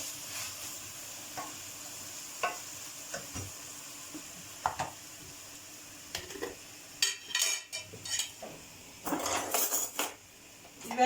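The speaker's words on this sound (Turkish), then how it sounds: "Etim ve soğanım biraz kavrulsun" Meat and onions sautéing for a regional Siirt dish, a soft sizzle beneath sharp metal scrapes and clinks of a utensil stirring in the pan, growing busier toward the end, no talking.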